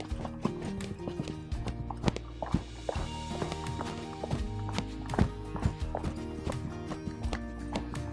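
A horse's hooves strike the ground at a canter in a riding session, making a close, rhythmic stream of clip-clops with a few louder hoof hits and a faint whinny-like sound mixed in.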